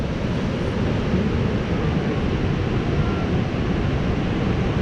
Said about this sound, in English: Look how big the waves are,